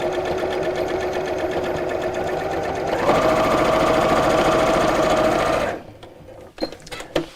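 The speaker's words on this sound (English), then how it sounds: "onto your sewing machine, and again nice and curvy around the curve" Running close and loud, a sewing machine stitches around a curve, its hum rising slightly in pitch midway, then stops, leaving a few clicks and fabric shuffles.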